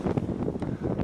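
Gusty wind buffets the microphone in low, rumbling bursts, close and steady through the short moment.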